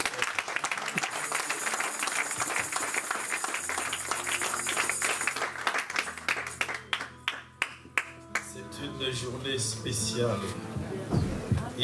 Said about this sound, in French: Est-ce que vous pouvez donner une acclamation?